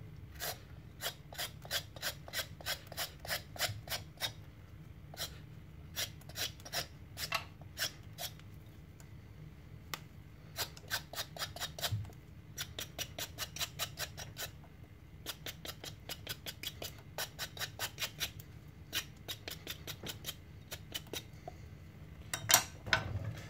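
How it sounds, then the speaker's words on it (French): Carrots being peeled for a potage Saint-Germain, with rapid runs of crisp rasping scrapes from the peeler in steady rhythmic bursts and short pauses, close and fairly quiet. "Ensuite, vous allez éplucher vos carottes."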